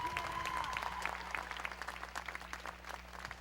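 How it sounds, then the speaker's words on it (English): Audience applause at a Ramadan lecture, a steady wash of many hands clapping at moderate distance, continuous for a few seconds with a faint tone underneath. "let's just all give ourselves a wonderful round of applause"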